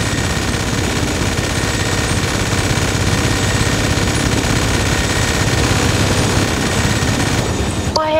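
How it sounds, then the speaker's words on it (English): A minigun in the video game GTA 5 fires as one loud, unbroken, rapid rattling burst for about eight seconds, cutting off abruptly near the end. "Oh, I have a minigun?"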